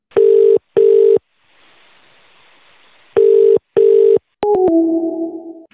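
A telephone call goes out on a landline. Two pairs of loud, close ringback tones are separated by a hiss of open line, then a few quick dial-like beeps give way to a fading lower tone.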